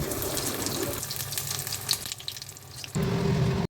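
A burger patty fries in a little hot white oil in a wok, making a soft, continuous hiss that drops briefly and then swells louder near the end.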